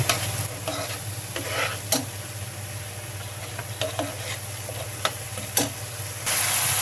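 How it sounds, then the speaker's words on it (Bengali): A spoon stirs a boal fish curry in a pan after turmeric and chili powder go in. Scattered scraping knocks sit over a steady low sizzle, with no talking. "এখন নেড়ে চেড়ে নেব।"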